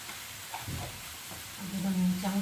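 A spoon stirs spices with turmeric in a hot frying pan, producing steady close sizzling with soft scraping strokes, and a brief low hum near the end.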